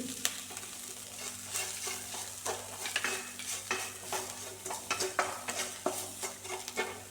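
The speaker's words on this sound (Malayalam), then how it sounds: "നമുക്ക് ഇതിനെ ഒന്ന് വഴറ്റിയെടുക്കാം" Chopped onion and other ingredients with turmeric sauté in a pan for green tomato stir-fry, with a continuous soft sizzle under repeated scraping and clinking strokes of a spoon, close and moderately quiet.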